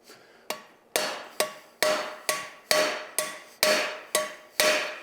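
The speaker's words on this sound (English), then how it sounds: "Set my first rivet." Hammer blows set a cold 1/4 inch steel rivet over the edge of an anvil, about nine sharp, ringing metallic strikes at a steady, slightly quickening rhythm, each with a short bright decay, close and alone.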